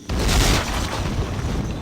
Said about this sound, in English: Explosions all over the place.